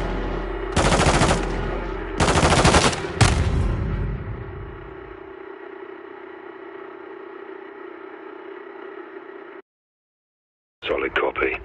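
Gunfire in a Call of Duty campaign mission: two loud, dense bursts followed by a third shorter one, then a fading ring and hum that cuts to silence before a brief flurry of sound at the end.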